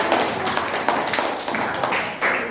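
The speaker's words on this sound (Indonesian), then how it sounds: "Tepuk tangan sekali lagi untuk kelompok." A classroom of students applauds a student group in an Indonesian civics lesson, a dense, steady run of hand claps with a few sharper slaps standing out, fairly close and filling the whole span.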